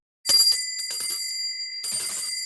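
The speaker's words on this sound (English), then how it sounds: "There's my little bell." A small hand bell struck twice, a bright metallic ring with sustained high overtones, the first strike ringing out at close range and the second following about a second and a half later, alone without talk.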